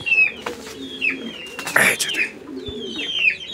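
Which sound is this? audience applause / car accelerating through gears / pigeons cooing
pigeons cooing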